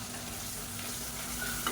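Onions and tomatoes sautéing and being stirred in a pan for an egg biryani, a steady close sizzle running throughout with faint stirring scrapes near the end.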